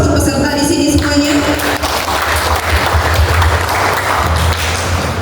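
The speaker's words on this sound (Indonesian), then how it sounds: "Kita aplaus untuk peserta di sini semuanya." Audience applause for participants at the LCCM 2026 West Sumatra Zone C competition, steady close clapping running throughout with a voice heard briefly at the start.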